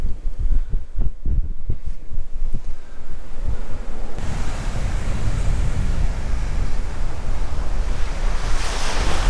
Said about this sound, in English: And the waves here that are rolling in, they can be humongous.